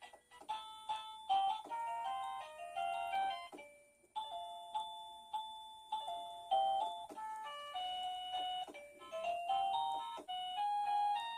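A MECO wireless doorbell kit's plug-in receiver chimes out a melody as a bright electronic tune, loud and close, with a short pause midway and no talking.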